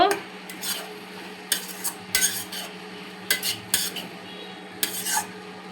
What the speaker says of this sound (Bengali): তারপরে সুন্দর করে নেড়ে চেড়ে দিয়ে দিব।